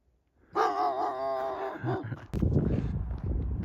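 A dog on a cross-country bikepacking trip gives a drawn-out whine or howl, then breaks into a loud, close bark followed by rough, noisy yelping.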